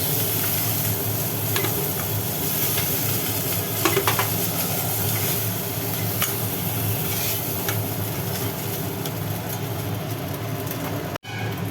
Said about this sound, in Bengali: কাঁকড়াগুলোকে একটু লাল লাল করে ভাজা হবে